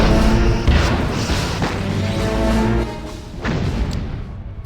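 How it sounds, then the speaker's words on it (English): A starship firing forward torpedoes in the Star Trek Bridge Commander game, loud booming thuds and a whooshing blast over a continuous low engine rumble, dense and close. "Lining up forward torpedo tubes."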